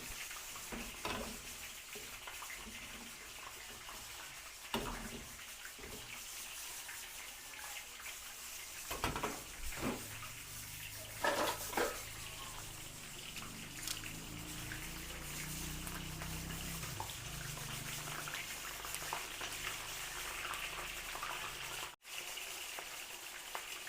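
Pechay (bok choy) stirred and frying in a pan during a Filipino home cooking session in Bauan, Batangas: steady close sizzle with scraping stir strokes and a few louder clatters, no talk.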